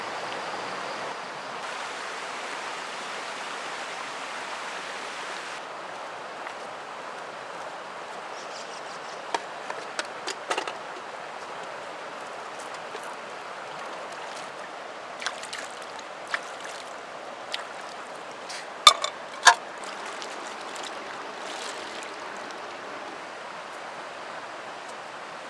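A river flows steadily at a bushcraft campsite, giving a soft, even rush of water. Faint scattered clicks and taps sound on top of it, and no one talks.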